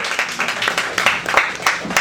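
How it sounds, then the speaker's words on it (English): A crowd at an open mic comedy night applauds a comedian coming to the stage, dense irregular clapping close by with some bursts of cheering, brief and energetic. "Let's give them a huge round of applause"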